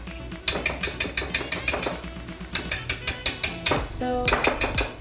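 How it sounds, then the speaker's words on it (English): Wire whisk tapped against a bowl to knock out mashed banana, about seventeen sharp metallic taps in quick rhythmic runs with a short pause between bursts, close and loud. "Just tap it down to get it out of the whisk."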